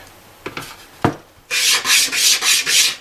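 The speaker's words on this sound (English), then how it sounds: "Now, just a little bit of sanding here. One should always have a sanding board." A few light wooden taps and knocks, then a rapid series of five or six harsh rasping strokes of an 80 or 100 grit sanding board in a steady back-and-forth rhythm, close by.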